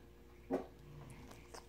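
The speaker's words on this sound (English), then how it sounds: "Are you throwing a fit over there" A dog lets out one brief, faint whimper in a quiet room, with soft rustling and small handling noises around it.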